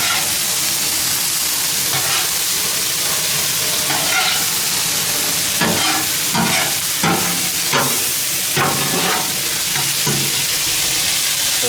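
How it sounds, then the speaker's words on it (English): Chicken and vegetables including broccoli sizzle loudly on a hot flattop griddle, a constant close frying hiss broken by repeated scraping and stirring strokes of a spatula. "Listen to that sizzle."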